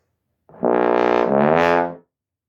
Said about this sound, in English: the bass trombone and the second trombone do a glissando